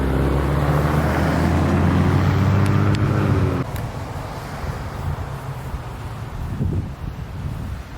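Idling cars run steadily in the background, with a strong engine hum that drops off sharply partway through, leaving quieter road and wind rumble.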